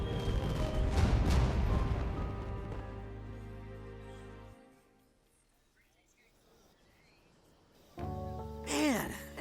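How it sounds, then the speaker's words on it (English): Close-range fireworks in Persona 5 Strikers burst loudly in a dense, booming volley, fade to a quiet lull, then return with another sharp blast and whistling crackle near the end. "Man, I never saw fireworks from that close up before"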